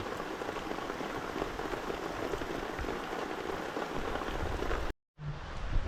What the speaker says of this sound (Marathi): आता पाऊस आला आहे बघा